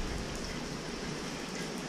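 Steady rain falls outdoors in a constant, even hiss of drops that continues without a break and with no other sounds over it.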